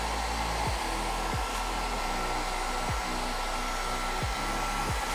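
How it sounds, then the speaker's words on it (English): A blow dryer runs steadily with a loud, constant whooshing hiss, while soft periodic low thumps recur about every 0.7 seconds underneath. "I'm using the blow dryer."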